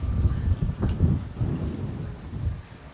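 Outdoors at Langkawi's Eagle Square, thunder rumbles low and rolling as rain starts, with a continuous wash of rain noise and a slight stir of wind and no talking.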